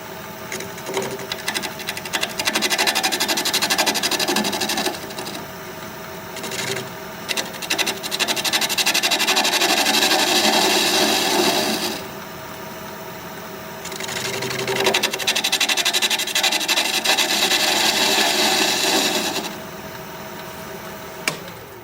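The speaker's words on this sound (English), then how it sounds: "So I'm going to use a 1/2-inch bowl gouge." Wood turning on a lathe at 750 RPM, a half-inch bowl gouge cutting a healed-over branch section: a steady, loud scraping rasp that swells and eases in long passes, with brief pauses between cuts.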